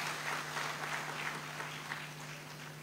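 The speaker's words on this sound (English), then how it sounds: "Professor Kwesi Nsiajaba, deserves another round of applause" A crowd at a university governing council event applauds its chairman, producing a faint, steady clapping that carries through the whole moment, heard distantly over a low hum.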